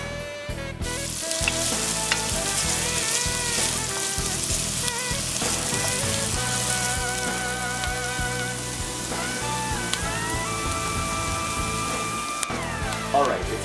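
Onions sizzle and crackle steadily in butter in a hot pan, with faint background tones and occasional stirring, continuous and close.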